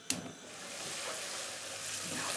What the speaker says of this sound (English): Now I'm going to fry this onion.